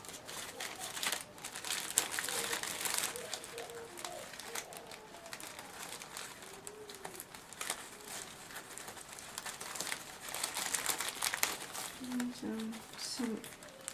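Plastic crinkling and rustling of a small goodie bag being opened among scrapbooking craft supplies, steady close crackle under light movement noise.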